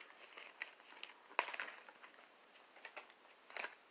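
A deck of tarot cards is shuffled up close, giving soft crinkling riffles and a few sharper card snaps, quiet throughout.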